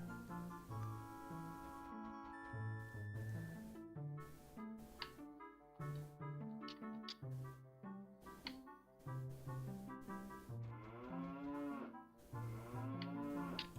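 Cattle mooing in Ocarina of Time 3D: repeated low, musical moo calls set over a chiming, tick-tocking game melody, fairly quiet and with no talk over it.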